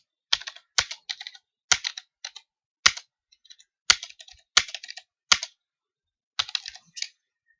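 Numbers being typed on a computer keyboard, short bursts of crisp key clicks in quick clusters separated by pauses, close and clear with no talking.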